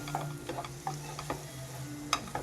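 Masala paste fries quietly in a pan for catering-style cauliflower curry, a soft sizzle broken by light, irregular ticks and scrapes of a stirring spoon.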